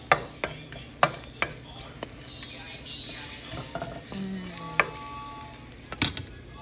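Chicken sizzles and fries in a pan at close range, with sharp metallic clinks and scrapes of a utensil stirring against the pan at irregular intervals over the steady crackle.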